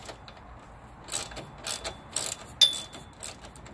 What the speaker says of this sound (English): I'm using a 1/4-inch drive ratchet for this job